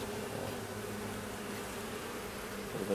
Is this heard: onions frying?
no